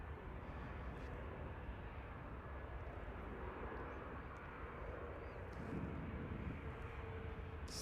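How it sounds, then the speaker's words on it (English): A Ryanair airliner arriving from Milan touches down at Manchester Airport, a steady distant broadband jet roar that holds level throughout, slightly swelling near the end, with no voices. "Ryanair from Milan, touching down"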